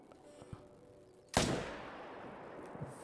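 One loud, sharp shot from a .300 hunting rifle rings out in the hunting video game theHunter: Call of the Wild, followed by a long, fading rumble over quiet ambience.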